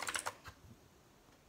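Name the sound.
typing on Royal Kludge 60% keyboard with blue switches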